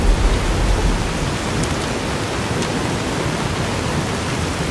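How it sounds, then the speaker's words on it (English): Rainstorm with thunder in Fallout: New Vegas, where loud steady rain hisses continuously and a low rumble swells near the start before easing into an even downpour. There is no speech. "Alright, my character is going to try to sleep off this rainstorm."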